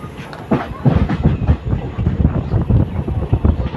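A passenger train runs on the rails with a loud, close, rhythmic clickety-clack and a heavy rumble that continues without a break.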